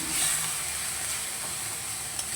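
Spice paste frying in oil as a little water is splashed in: a short burst of steady sizzling and steamy hiss, fairly close and even.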